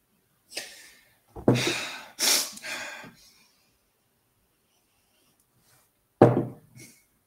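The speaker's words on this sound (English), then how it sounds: "Oh, you're sniffing already. Oh, I'm sniffing that." A few sharp, close nasal sniffs in quick succession, a pause of silence, then another pair of sniffs.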